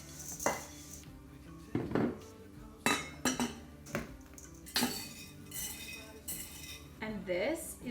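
Coconut, cinnamon, salt and chocolate are mixed in a bowl for a homemade baking mix. A spoon clinks and scrapes against the bowl several times in uneven, fairly close knocks.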